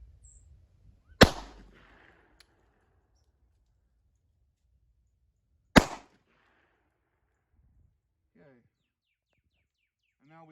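Two sharp, loud gunshots from a Bond Arms derringer pistol in 9mm Luger or .38 Special, fired several seconds apart outdoors at a target about 9 yards away, each with a short echoing tail, and faint bird calls afterward.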